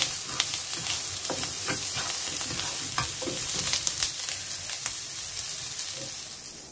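Baby asparagus sautés in garlic butter with salt in a pan, giving a loud, continuous sizzle with frequent clicks and scrapes from stirring.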